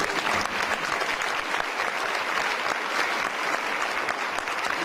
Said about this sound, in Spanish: Podemos darle un aplauso al Rey de Reyes.